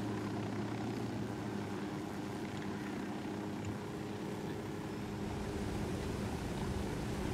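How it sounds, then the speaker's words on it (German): Steady rotor and engine drone of a helicopter in Ghost Recon Wildlands, a constant mid-level hum running unbroken throughout with no voices over it. "Ach, guck mal, da ist noch ein Heli."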